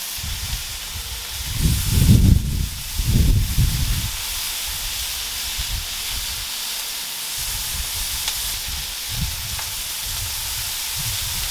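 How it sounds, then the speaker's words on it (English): Bacon and hash browns sizzle steadily on an Evo flat top grill, a constant hissing fry with a few louder scraping bursts early on, close and fairly loud. "Okay, so we've got bacon cooking, we've got the hash browns cooking."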